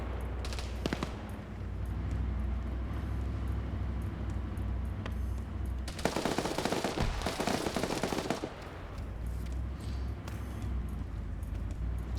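Marksman rifle fire in a multiplayer Just Cause game set in Panama, heard as scattered sharp shots over a constant low engine rumble, with a denser burst of firing in the middle.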